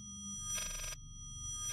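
A telephone rings in a dark house in Layers of Fear, two short bright electronic trills separated by a pause over a low, droning background.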